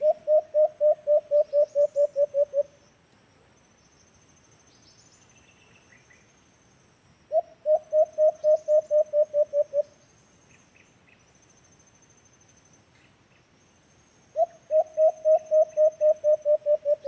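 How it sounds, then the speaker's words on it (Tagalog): A decoy alimokon dove call repeats in three bursts of rapid, evenly spaced whistled notes, each about two seconds long and loud and near, separated by quieter gaps with faint high chirps. "Pakinggan muna natin yung huni dito ni Sansan mga kaburyon"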